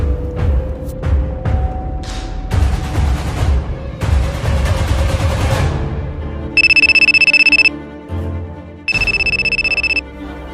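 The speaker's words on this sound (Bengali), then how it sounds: "স্যার, আমার একটা ইমার্জেন্সি ফোন আসছে বাসার থেকে" An incoming call sets a phone ringing: two loud, steady electronic ring bursts follow a run of thudding, percussive beats.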